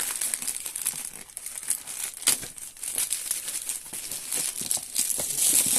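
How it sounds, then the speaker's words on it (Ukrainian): Dense plastic packaging of a Philips 3000 series BHD350/10 hair dryer crinkles continuously at close range as it is unpacked, with steady rustling and a few sharper crackles throughout. "Значить, Ми його розпаковуємо."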